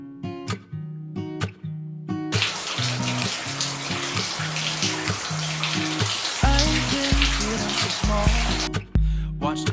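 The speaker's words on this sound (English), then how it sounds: "Now fill a tub with hot water" Hot water pours from a tap into a bathtub in a home bathroom, a loud, steady rushing splash that runs throughout, with a musical tone layered over it.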